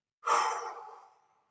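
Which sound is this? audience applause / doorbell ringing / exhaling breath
exhaling breath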